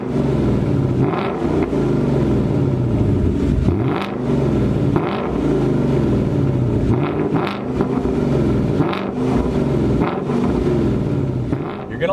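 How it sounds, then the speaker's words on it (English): A 2019 Ford Mustang Bullitt's 5-liter V8 drones loudly through its active exhaust while driving, swelling in repeated revs under gusty wind buffeting on the microphone. "it gives you the option to turn down or turn up the sound of this wonderful 5-liter"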